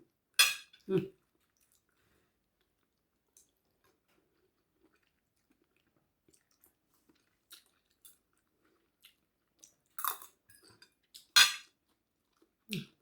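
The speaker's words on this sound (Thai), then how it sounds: "กินน้ำยากินไก่ฮะ" Cutlery clinks against a dish while someone eats Thai coconut-curry rice noodles with chicken feet, in a few sharp, isolated taps and scrapes separated by long quiet stretches.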